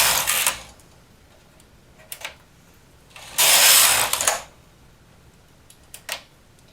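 A knitting machine carriage is pushed across the needle bed to knit a shortened row for a heart pillow, making a loud rasping mechanical slide in the middle, with shorter clicks and clatters before and after, close up.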